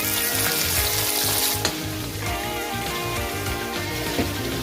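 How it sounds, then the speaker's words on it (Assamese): Fresh snakehead fish fries in hot oil with a steady, close, loud sizzle and crackle throughout, with no talk over it. "এতিয়া তাজা সতেজ শ'ল মাছৰ ভাজি থকা অৱস্থাৰ দৃশ্য চাওক আপোনালোকে"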